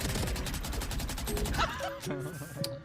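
Video game gunfire: dense, rapid bursts of shots crackle continuously at first, then thin to a few scattered reports mixed with game effects and faint background sound.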